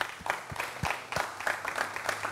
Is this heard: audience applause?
yes